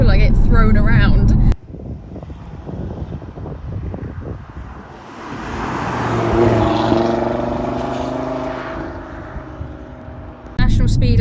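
An Audi TT RS accelerating hard on an open road, with rising engine roar and strong wind rush building through the middle. Bursts of talk bracket it at both ends.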